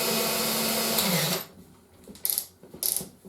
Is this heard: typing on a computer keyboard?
no